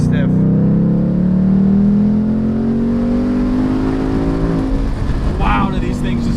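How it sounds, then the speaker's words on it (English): A car engine revs up in one long, climbing sweep that holds high before easing off, loud and close, with a brief voice near the end. "Wow, do these things just keep revving?"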